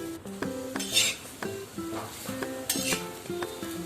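Coriander vadi pieces fry in oil in a pan, a soft sizzle under repeated metallic clinks and scrapes of a utensil against the pan, close and moderately quiet, with no voices.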